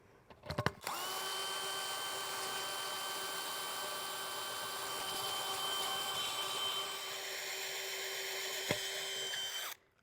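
A power drill bores steadily through a birdbath, a loud sustained whine held for about nine seconds at close range before cutting off.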